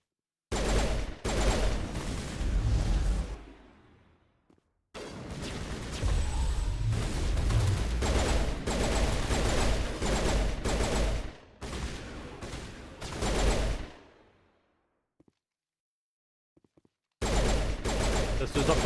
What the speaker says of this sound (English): I'm gonna switch to the pistol.